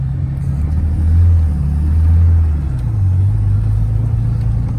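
A car engine idling at around 1,000 RPM, a steady low rumble close by that swells slightly and settles, with no voices.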